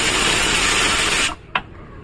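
A pressure cooker cooking green gram curry releases steam in a loud, steady hiss that cuts off abruptly, followed by a single brief tonal blip before near-quiet.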